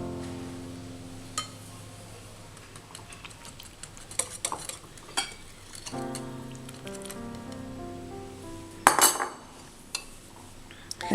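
Chocolate pancake batter being mixed in a bowl with a whisk or fork, heard as a run of quick, uneven clinks and taps of metal on the bowl with a louder rattling burst toward the end, and no one speaking.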